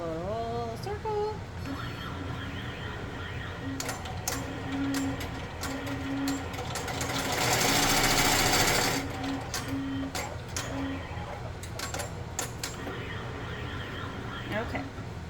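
An embroidery machine sews an applique placement stitch, a rapid rattling mechanical chatter that runs throughout and swells louder midway, with a speaking voice and clicks of handling nearby.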